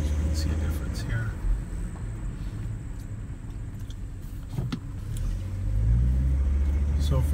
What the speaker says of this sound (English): Take for a little test drive.